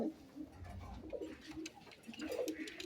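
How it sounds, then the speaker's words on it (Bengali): Bombay pigeon cooing indoors, soft low rolling coos repeating through the moment at close range, fairly quiet, with faint ticking and light background noise. "এই দেখেন এটা হলো বোম্বাই কবুতর,"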